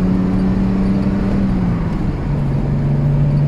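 Jaguar MK2 340 saloon engine held around 4000 rpm, a steady loud drone that dips slightly in pitch midway and settles lower, heard from inside the car with no talk.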